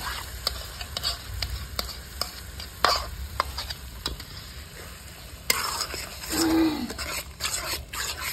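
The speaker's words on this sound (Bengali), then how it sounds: "বন্ধুরা এখানে 300 গ্রাম দই দিচ্ছি, ভালো করে ফেটে নিয়েছি, দিয়ে দেবো।" Whisked yogurt is stirred into a hot sizzling pan while cooking a rural Bengali catla fish dish: a steady frying hiss runs under scraping spoon strokes and scattered clicks against the pan.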